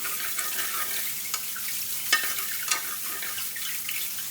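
Soft, steady sizzling and crackling from mushrooms cooking in a frying pan, with occasional small pops, close up and fairly quiet.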